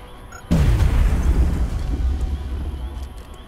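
A car blows up in XCOM: Enemy Within, a sudden loud boom followed by a deep rumbling roar that slowly decays over several seconds, with no talk.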